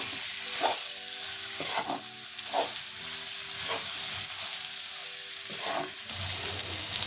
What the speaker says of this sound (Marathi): एक 5 मिनिट तरी आपल्याला बारीक गॅसवर छान परतून घ्यायचंय